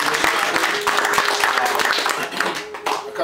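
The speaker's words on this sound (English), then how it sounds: "So we all just give him a round of applause." A crowd at a birthday party breaks into sustained, dense applause, many hands clapping at once, loud and continuous with a few voices mixed in.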